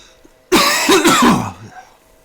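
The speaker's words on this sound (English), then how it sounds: "Sorry about this cough, gang." One harsh, rasping cough erupts loudly up close, trailing off into a raspy, strained exhale.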